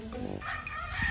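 A rooster gives a short, fairly faint crow outdoors, a single brief call with some low background noise and no talking.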